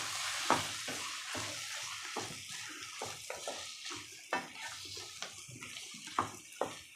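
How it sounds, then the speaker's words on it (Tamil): Potato masala with onion and tomato stirred in a pan for a hotel-style dish: a soft, continuous scraping under a faint sizzle, with spoon taps against the pan wall recurring irregularly throughout. "இப்போ இதை நல்லா இப்படி கலக்கி விட்டுடலாம்"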